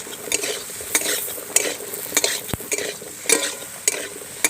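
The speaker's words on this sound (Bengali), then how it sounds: "এবার কেটে রাখা আলু দিয়ে দিচ্ছি। আলুটা আমি কিছুক্ষণ ভালো করে কষিয়ে নেব।" Cut potatoes being stir-fried in a pan for a spicy Amodi river-fish curry, with steady sizzling and repeated sharp scrapes of a spatula against the pan, close and clear with no talking.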